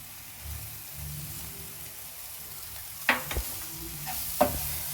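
Pav masala is stirred in a pan, a soft low sizzle with a few sharp spoon scrapes and clinks against the pan near the end.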